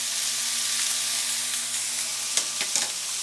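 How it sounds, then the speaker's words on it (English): Tomato puree hitting a pan of sauteed green peppers, a steady close sizzle and frying hiss with a few sharper crackles near the end and no talk. "Next I'm going to add 12 ounces of tomato puree"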